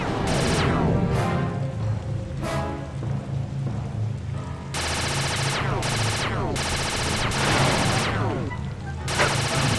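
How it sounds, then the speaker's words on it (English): Rapid turret gunfire from a blimp in Sly 2: Band of Thieves, with dense repeated bursts and crackling impacts layered over a steady low rumble, loud and continuous across the whole stretch. "You're about to come under fire. Get to the blimp's turret and stay sharp."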